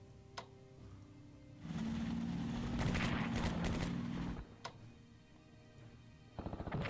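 Troops open fire in Strategic Command: World at War during an attack near Cadiz: a dense burst of rattling gunfire lasts about three seconds at steady loudness, then gives way to a few scattered ticks and clicks.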